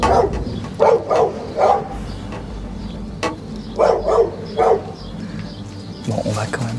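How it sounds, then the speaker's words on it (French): A small dog barks outdoors at an abandoned site full of sculptures, sharp yaps coming in two quick clusters of about three, moderately close, over a faint background murmur. "Papa n'ose même plus parler à cause du petit chien qui courait derrière."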